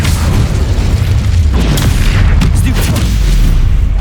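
Confringo blasting spells exploding in the video game Hogwarts Legacy, with loud, dense rumbling booms and bursts rolling on without pause, close and heavy.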